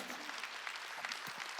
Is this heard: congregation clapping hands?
yes